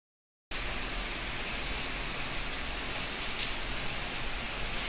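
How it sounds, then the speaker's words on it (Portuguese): Rain falling in Santos, Brazil, a steady, even hiss of downpour that starts abruptly after a short silence and holds at constant strength throughout, with no voices. "Seis horas e 26 minutos, chovendo em Santos."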